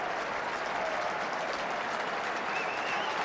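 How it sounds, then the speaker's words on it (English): Steady applause from a football crowd at Burnley v Blackburn Rovers, an FA Cup fifth-round match, as an injured player leaves the field; a dense, even wash of clapping filling the stadium throughout. "And there's some applause for Frank Sinclair as he leaves the field"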